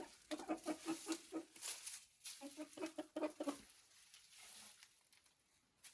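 Adler Silver chickens cluck in bursts of close, soft rhythmic clucks, two clustered runs separated by brief pauses, then fading into quiet background, faint overall with no speech.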